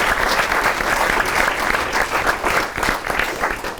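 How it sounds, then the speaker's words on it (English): Steady applause from a seated audience thanking three panellists at the end of a UK panel discussion on the Net Zero transition, dense and even throughout with no voices over it. "Let's give them a big round of applause"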